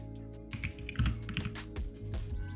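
Rapid bursts of typing on a computer keyboard, close and clear, with irregular clusters of key clicks and brief pauses between them.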